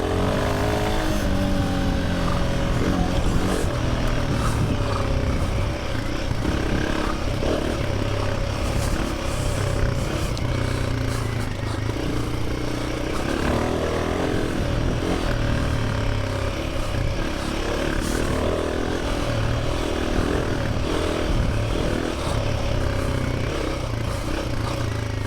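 A Royal Enfield Himalayan 450 motorcycle, modified, being ridden on the road, its engine droning steadily and loudly throughout with wind rush and faint shifts in revs, heard from the rider's position.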